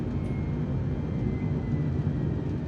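Steady broadband roar of an airliner's engines climbing after takeoff in Microsoft Flight Simulator, a continuous even rumble dominated by low frequencies, loud and unbroken with no talk.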